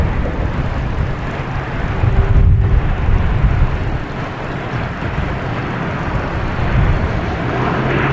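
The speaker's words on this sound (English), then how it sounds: "we have a Delta coming in from Atlanta on 4 left, A321neo." A Delta Airbus A321neo landing on runway 4 left at Boston Logan Airport produces a broad, steady jet roar, heard from a distance through gusty wind buffeting the microphone.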